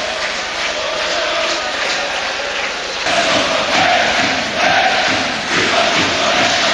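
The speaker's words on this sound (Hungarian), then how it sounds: "A közönség elismerése." Ice hockey arena crowd at a world championship relegation game between Hungary and Denmark, a sustained roar of applause and cheering that swells louder partway through and stays dense throughout.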